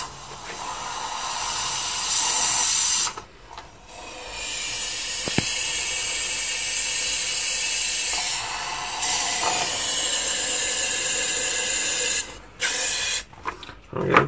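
A cleaning spray hisses as it is sprayed into a grimy, cruddy part, in three long, steady bursts separated by short pauses, with no talking.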